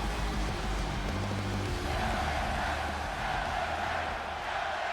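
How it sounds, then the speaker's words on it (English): Arena crowd noise in the WWE 2K24 wrestling video game, a broad, steady roar of cheering spectators at a St. Louis event that holds at a moderate level without breaks. "the crowd is behind the Megastar here in St. Louis"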